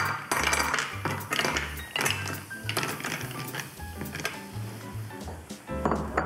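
A small metal pot clanks and scrapes against other objects in quick, irregular knocks, up close, with a rhythmic background beat underneath.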